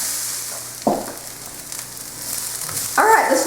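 Sauerkraut and bratwurst sweat and soften in a pan, giving a low, steady sizzle broken by a couple of brief utensil clinks and stirring scrapes.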